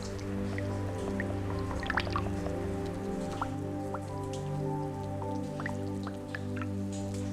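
Water droplets dripping inside a Jeju volcanic lava cave, scattered single drips plinking at irregular intervals over a steady low hum, quiet and close with no voices.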